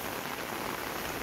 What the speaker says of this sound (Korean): 굉장히 많은 비가 오고 있어요.